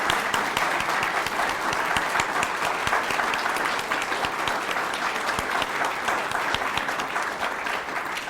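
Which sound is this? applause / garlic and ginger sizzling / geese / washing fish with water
applause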